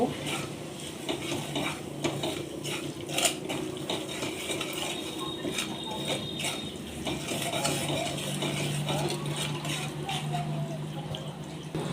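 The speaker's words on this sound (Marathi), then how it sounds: "मुंगाची डाळ ती टाकू आणि ती टाकून तुपात परतून घेऊ" Ground moong dal is stirred and sautéed in ghee in a pan for halwa, a steady soft sizzle with repeated scraping and clinks of a spoon against metal, close and continuous with no talking.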